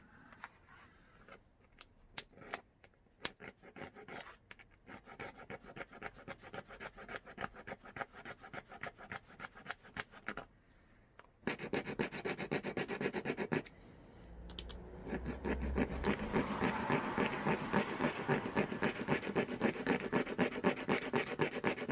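A hand tool rakes back and forth in a gouge cut into bone to make a primitive sewing needle, a close dry scratching in steady repeated strokes that becomes louder and denser partway through, with no voices.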